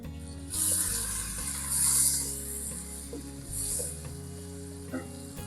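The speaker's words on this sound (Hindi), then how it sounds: "ऑयल गरम हो गया, प्याज शामिल करते हैं।" Chopped onions hit hot oil while chicken korma is being cooked, giving a steady bright sizzle with a few louder surges, backed by a low, constant mechanical hum.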